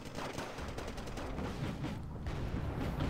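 Rapid, dense bursts of tank gunfire from a T-80 in a battlefield video game, a continuous rattling barrage at moderate distance with no voices.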